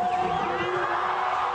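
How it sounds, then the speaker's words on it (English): A large outdoor crowd roars and cheers at a freeskiing big air competition, a sustained, even wall of distant voices with a steady high tone running through it and no break. "Listen to the crowd."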